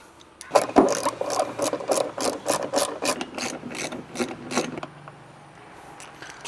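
Someone removes a car's reverse light housing to change the LED bulb, making a burst of close, rapid clicking and plastic rasping that ends abruptly and leaves near silence.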